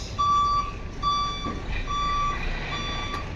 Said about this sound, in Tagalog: Itong mga malalaking sasakyan na ito.